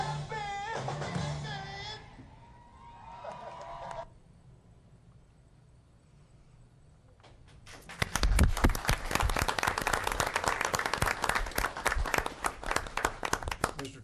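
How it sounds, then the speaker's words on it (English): An audience at a Muskogee city event bursts into loud, sustained applause with dense clapping that continues for several seconds after a speaker's voice. "Give the city of Muskogee and African Americans everywhere a great big round of applause."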